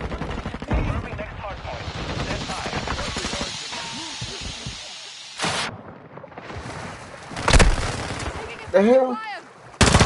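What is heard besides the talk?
gunfire in video game Call of Duty Modern Warfare 2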